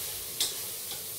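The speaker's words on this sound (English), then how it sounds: "we have to make sure that the soya chunks don't stick with the base, so that's why I'm stirring" Soya chunks stirred inside a rice cooker, a soft steady sizzle with one sharp scrape of the utensil against the pot base and a fainter second scrape shortly after.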